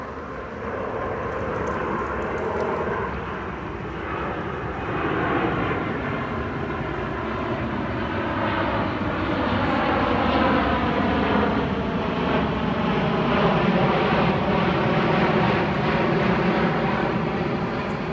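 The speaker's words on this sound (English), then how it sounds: "you must have seen that airplane just fly over" An airplane passes overhead as a loud, broad engine roar that holds steady and swells slightly over eighteen seconds, its pitch bands gently sweeping as it passes, with no talk over it.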